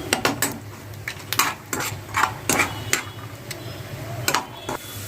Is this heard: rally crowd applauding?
no